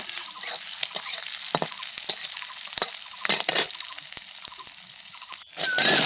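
Minced ginger fries in hot oil with a steady bright sizzle, broken by several sharp stirring scrapes and clacks in a pan. A louder, fuller burst of sizzling comes near the end. Nobody speaks.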